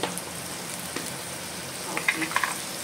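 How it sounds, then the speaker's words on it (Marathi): Masala sizzles gently in a hot pan, a soft continuous frying hiss with a few small crackles and pops near the end, while a voice talks over it. "पॅन गरम झालाय, जरा जरा ऍड करू दे मसाला"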